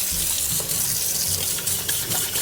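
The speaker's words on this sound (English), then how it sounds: "Wash my hands real quick so stuff don't come sliding down on my hands." Kitchen tap running steadily and loud in a continuous gushing stream while hands are rinsed under it, with faint splashing changes and nobody speaking.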